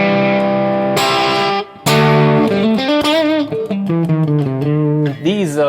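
An electric guitar runs through a Plexi-style Marshall amp model on a Hotone Ampero for a loud, crunchy distorted tone: sustained chords, then a short gap, then note-by-note playing with bends and vibrato, with no talk over it.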